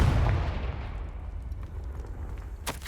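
The Confringo spell in the video game Hogwarts Legacy goes off as a deep explosive boom that fades into a rumbling tail, with a short crackle near the end and no voices.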